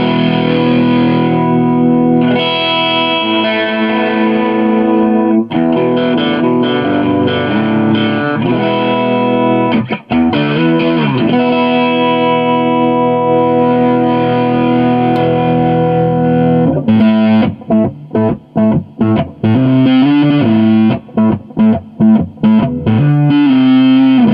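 Electric guitar played through a Moose Customs Rat distortion pedal, a thick sustained distorted tone with ringing chords and riffs, loud and continuous, with choppy staccato strums toward the end.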